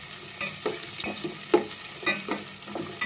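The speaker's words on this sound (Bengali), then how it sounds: "আমি বাদামটা একটু ভেজে নিয়ে সেমাইগুলা দিয়ে দিব।" Cashew nuts frying in ghee for vermicelli, a steady hiss with repeated spoon stirs and light clicks against the pan, close and continuous.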